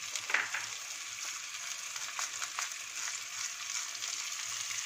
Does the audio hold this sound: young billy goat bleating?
no